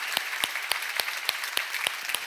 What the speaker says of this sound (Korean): 박수 세게 쳐봐.